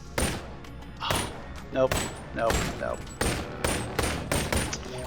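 Uzi submachine gun firing in a melee-versus-ranged weapons game: several short sharp bursts in quick irregular succession, loud and close, with someone briefly speaking between them.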